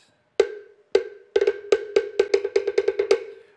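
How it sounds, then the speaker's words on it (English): A small African tigita drum struck with two thin sticks gives sharp, ringing, pitched hits: a few spaced strokes, then a quickening rhythmic pattern of close, bright beats with no talk. "This is called the tigita."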